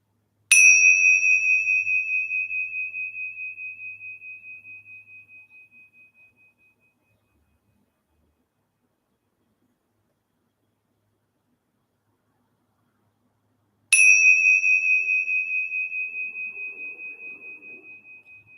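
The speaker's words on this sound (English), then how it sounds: "See if you can follow the sound of the bells again as they begin and then into the silence." A meditation bell strikes once and its clear tone slowly fades to silence, then after a long pause a second strike rings out and decays.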